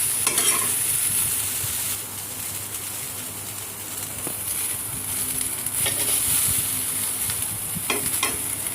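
Soya chunks fry in a little oil in a hot wok, a dense close sizzle and crackle with occasional stirring scrapes. Throughout, a constant thin high whine stays faintly in the background and nobody talks.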